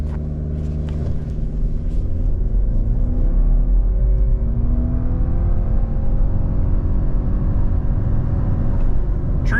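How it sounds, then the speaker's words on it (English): A 2026 Subaru Outback Touring XT turbo engine held on the brake and revved, a loud steady drone with rising harmonics as revs climb, building into a strong acceleration roar with no talking. "We're gonna do a brake rev. Let's see what it can do."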